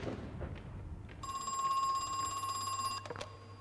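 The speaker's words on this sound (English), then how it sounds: "Phone's ringing." A telephone rings in the video game Crow Country, a steady electronic ring lasting about two seconds over a quiet, low ambient hum, with no voices.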